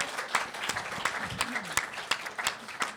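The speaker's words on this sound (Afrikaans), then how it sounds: "Kan ons 'n lekker hande klap vir daai enetjie kry?" Audience applause at a roundtable book-and-festival discussion, a moderate wash of clapping punctuated by sharp individual claps, with a voice speaking briefly over it.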